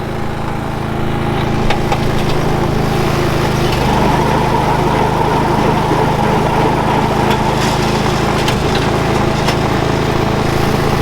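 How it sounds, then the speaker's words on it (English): A Honda engine-powered Christmas tree baling machine with a roller chain drones loudly and steadily at close range, a constant engine roar with faint rattling and clanking layered on top throughout. "So that machine's powered by a Honda engine, and we just have a clamp that attaches to the stump of the tree, and it has a roller chain that pulls it through"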